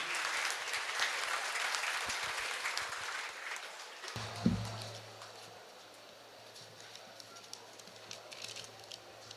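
Audience applause welcoming a doctor at Sakthi Polytechnic College's 45th anniversary function, a broad wash of clapping through the first few seconds, then thinning out as a low steady hum takes over.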